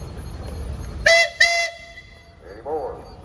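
Two loud, close blasts from the steam whistle of the traction engine nicknamed Brown Sugar at a Mason, Michigan steam and threshing show parade, the second following soon after the first, then faint crowd murmur and a brief voice.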